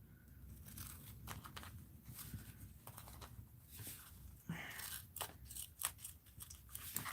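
Paper being cut with scissors during a recipe and Asian journal papercraft project, a quiet run of crisp snipping and crunching strokes that stay faint and close.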